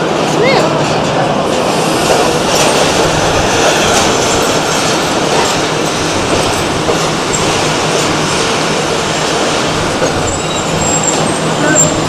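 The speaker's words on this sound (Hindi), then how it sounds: "ट्रेन पहुंच गई।" Train rolling into Quetta railway station in Pakistan, a loud continuous rumble and clatter of wheels on rails, with people talking faintly underneath.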